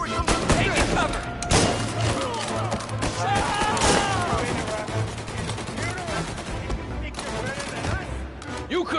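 Dense, continuous gunfire fills a shootout in Mafia: Definitive Edition, with rapid bursts and repeated loud shots running throughout alongside music, while voices shout over the din.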